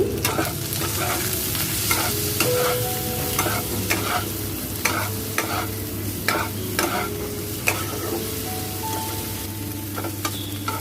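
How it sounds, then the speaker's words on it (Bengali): Steady sizzling of eggplant frying in mustard oil in a pan, with intermittent scraping and stirring clicks throughout and a low background hum. "কড়াইয়ের মধ্যে অল্প করে সরষের তেল দিয়ে আমরা বেগুনগুলোকে সামান্য নুন হলুদ দিয়ে কড়াইয়ের মধ্যে ভেজে নেব"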